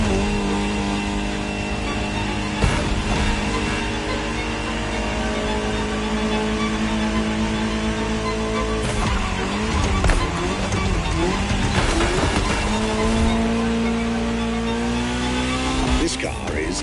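Ferrari 288 GTO engine in a racing video game, a steady sustained drone with rising and shifting harmonic pitches and occasional sharp transients as tires squeal, under continuous talk.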